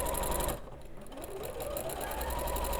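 A sewing machine stitching quilt fabric runs in a fast, steady mechanical whir with a brief slowdown before picking back up, close and continuous.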